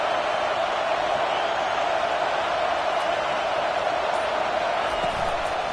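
A dense, steady roar comes from a stadium crowd during a college football game in the NCAA 25 video game, with sustained broadband noise throughout and no clear talk on top.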